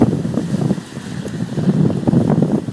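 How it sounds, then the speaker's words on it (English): Steady wind buffeting the microphone with a low rumbling roar beside the river at Rotherhithe, gusting unevenly throughout, with faint water lapping beneath. "And it's very windy."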